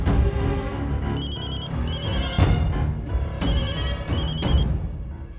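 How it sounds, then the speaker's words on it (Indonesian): A phone ringtone rings in repeated bursts while an outgoing call is placed, heard over music or background sound, fairly loud and close. "Sekarang lo telepon Arif, tanyain di mana duitnya."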